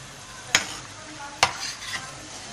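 Stripey samosas frying in a pan over low heat, a soft steady sizzle broken by two sharp utensil knocks about a second apart, no voices.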